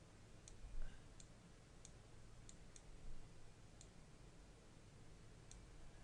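Computer mouse clicks during photo editing in Photoshop, several faint, sharp, isolated ticks spaced irregularly over a low background hum.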